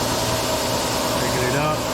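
A compressed air blow gun hisses steadily while blowing off a custom candy-painted, pinstriped panel, a constant loud rushing stream with a faint mechanical hum beneath, no pauses.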